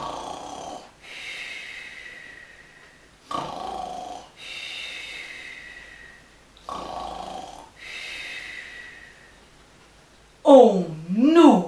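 A storyteller voices Mrs. Bear's snoring, imitating it with several long breathy snores in a slow rhythm, close and fairly loud, followed by a brief livelier vocal burst at the end.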